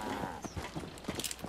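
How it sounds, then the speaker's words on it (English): A Brahmin cow in Fallout 4 stands nearby with the trader Carla, giving low lowing grunts and shuffling hoof steps, fairly close and without talk. "Get your cow out of my face!"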